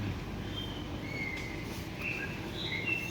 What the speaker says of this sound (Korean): 무슨 공원처럼 이렇게 안에서 이제 대학 안에서 뭐 새소리가 엄청 들리네.